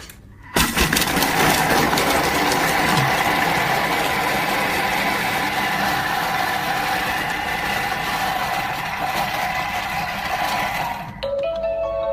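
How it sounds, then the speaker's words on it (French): A food processor whirs steadily at speed 5 for about ten seconds, blending a marinade with water and salt, a loud continuous motor roar that starts abruptly and cuts off near the end. "ensuite on va venir mixer 10 secondes, vitesse 5"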